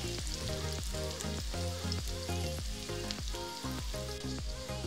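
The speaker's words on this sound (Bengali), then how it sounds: "আমি চুলায় তেল দিয়ে দিয়েছি, তেলটা গরমও হয়ে গেছে। আমি এখন পেঁয়াজ দিয়ে দিচ্ছি" Onion and chopped garlic dropped into hot oil on a stovetop, a steady dense sizzle and crackle that runs continuously and loudly throughout, with no talking.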